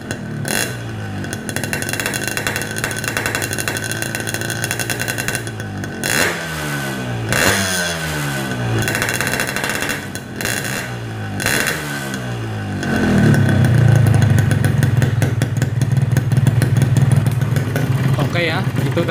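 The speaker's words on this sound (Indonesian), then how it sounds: "Sekarang coba kita mainkan gasnya." Yamaha RX King two-stroke motorcycle engine revs repeatedly after a wet carburetor setting, sharp throttle blips rising and falling close by, then settling into a louder steady high idle, with someone speaking over it.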